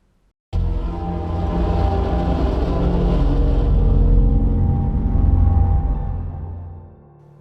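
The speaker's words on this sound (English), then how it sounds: "The train rolled by my porch every night." A train rumbles past at close range, a steady heavy roar of wheels and carriages that swells, holds for several seconds, then fades away.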